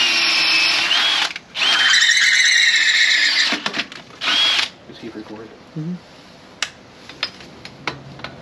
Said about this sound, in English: So we got to ream all four holes out